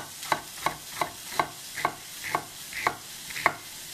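A knife slices through an onion on a cutting board in a steady series of eight crisp, evenly spaced chops, close and clear with no talking, while preparing a Greek potato hash.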